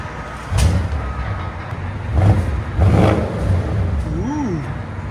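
A 2013 Audi S6 with a 4.0L twin-turbo V8 and deleted mufflers revs repeatedly, producing several close throaty bursts over a deep idle rumble.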